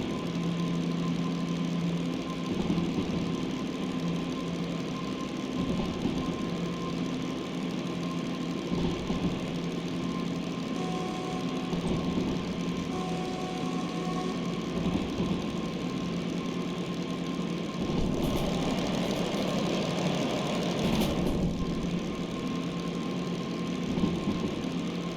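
A DM3 diesel locomotive in the Derail Valley train game runs at full throttle in its highest gear, giving a continuous, loud, rumbling engine drone with a steady mechanical chug that holds for the whole stretch.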